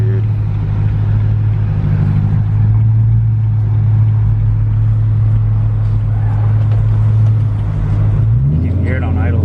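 A car idles through a newly installed $3000 aftermarket exhaust with a deep, steady, loud rumble, then the tone shifts near the end. People talk over it throughout.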